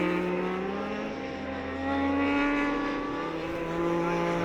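Superbike racing motorcycles in the Dunlop Masters Superbike Series roar down the main straight, a steady loud engine drone with rising and shifting pitch as bikes pass, no talk.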